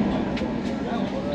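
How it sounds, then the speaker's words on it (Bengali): The Uttar Banga Express pulls into Bardhaman station, a steady low rumble of rolling carriages with faint voices nearby. "9:30 ট্রেন ঢুকে গেছে বর্ধমান।"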